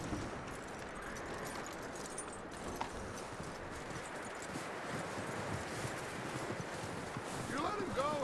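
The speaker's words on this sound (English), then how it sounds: "I got a horse now." Horse hooves clip-clop steadily on a trail in Red Dead Redemption 2, a soft, even rhythm beneath outdoor ambience with brief rustle near the end.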